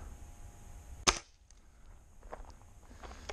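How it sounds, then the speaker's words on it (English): A Gamo Viper Express air gun with a shortened barrel fires a factory shot load once, a single sharp crack standing out loud and alone over a quiet background. "I am firing factory shot loads."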